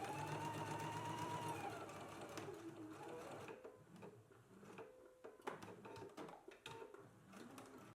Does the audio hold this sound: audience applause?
no